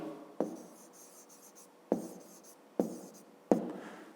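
Numbers are written by hand on paper during a fifth-grade maths exercise: a soft, continuous scratching of the pen, close and quiet, with a few sharper taps as strokes begin, and no talking.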